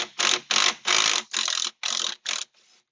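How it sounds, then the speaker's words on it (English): An electric impact wrench removes 10 mm bolts on a Jeep Wrangler JL in seven loud, rapid rattling bursts separated by short pauses, the last burst much fainter. "I do suggest that you use some type of electric impact for removal"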